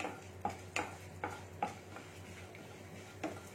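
Cumin, toor dal and moong dal fry gently in oil, a quiet sizzle punctuated by about seven evenly spaced stirring scrapes of a spoon against the pan.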